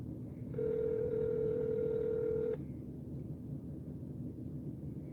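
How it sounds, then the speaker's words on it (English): A phone call ringing out on the line: one steady electronic ringback tone lasting about two seconds, then a quiet, noisy line with no answer. "Let me try giving her a call."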